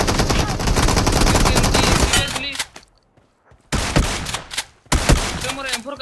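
M4 rifle fire in the BGMI battle royale game: loud sustained automatic bursts for about two seconds, a short quiet gap, then two more dense bursts of rapid gunfire, with no talking over it.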